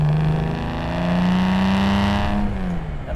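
A 1961 Aston Martin DB4 with its original engine bored to 4 liters and triple Weber carbs, pulling hard under acceleration; a steady, loud engine drone rising in pitch, easing briefly, then climbing again.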